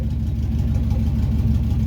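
A 1971 Plymouth Satellite wagon on its first drive after a rebuild, its engine a steady, close, loud low rumble that holds even throughout with no talk.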